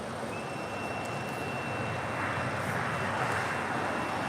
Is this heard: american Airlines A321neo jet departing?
yes